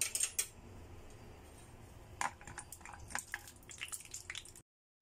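Cashew nuts frying in oil for a stir-fried chicken dish, with faint irregular crackles and pops close by and a few sharper utensil clinks, the sound cutting out near the end.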